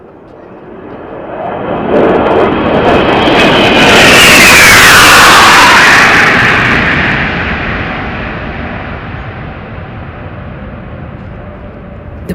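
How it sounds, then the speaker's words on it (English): Three Su-30 military jets pass over a National Defence Academy review parade, a loud roar swelling to a peak overhead and then fading slowly as they fly away. "You can see three Su-30 aircraft approaching the quarterdeck."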